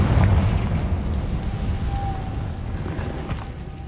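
A Confringo fire spell in Hogwarts Legacy bursts with a loud, deep rumbling blast at the start that rolls off into a long fading crackle and roar.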